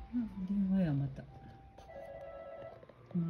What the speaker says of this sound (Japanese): 電話やまた。